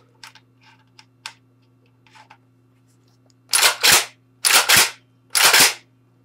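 An AK-47 rifle is worked in zero-degree cold, with a few light clicks and rattles followed by three pairs of loud, sharp metallic clacks as the action is cycled and dry-fired, close by, without talk.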